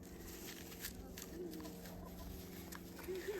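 A laying hen clucks softly in short bursts against a steady background hum, with faint talk nearby.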